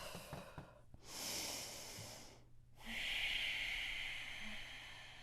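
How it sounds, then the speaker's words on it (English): Deep, slow breaths during a horizontal funky yoga flow: two long, airy inhale-exhale bursts, close to the microphone, with no talking. "If you hear me breathing deeply, it means you should be too."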